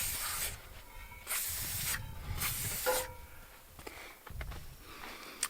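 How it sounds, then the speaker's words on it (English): Spray lubricant hisses from an aerosol can onto tractor cables in several short bursts separated by pauses, close and fairly loud, followed by a few quieter spritzes near the end. "I also spray down any cables that I find, throttle cable, the hood pop, brake lines"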